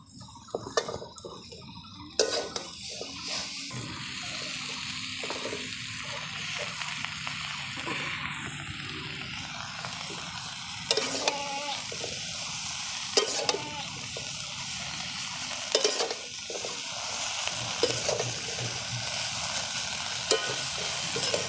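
Pumpkin greens cooking with potato and eggplant in a pan, a steady sizzle and hiss with intermittent stirring scrapes and clinks from the utensil.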